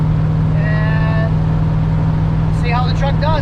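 A street truck cruising down the road, a constant low engine drone and road rumble filling the cab while someone talks over it.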